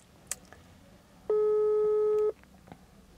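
A single steady telephone tone about one second long, clear and fairly loud over quiet room background, with a few faint clicks before and after.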